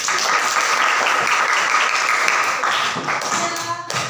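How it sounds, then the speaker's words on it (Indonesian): Applause from a classroom audience of vocational high school students after a student group's presentation, steady close clapping that tapers off near the end. "Berikan aplaus"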